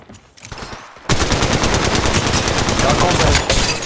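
Sustained automatic gunfire in Apex Legends Mobile erupts loudly after a quieter opening, a continuous rapid rattle of close shots that holds for several seconds, with a brief break near the end before firing resumes.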